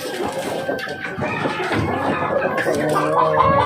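Barred Rock chickens clucking close by, a busy run of overlapping clucks and short calls, loud and continuous, with some voices mixed in.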